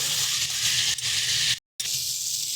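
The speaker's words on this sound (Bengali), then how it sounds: "সামান্য একটু জল দিয়ে এটাকে একটু ভালো করে কষিয়ে নেব আমরা" A pan of bean and lentil-dumpling (sim bori) curry sautéing with a splash of water sizzles in a steady, loud, close hiss that drops out completely for a moment before resuming.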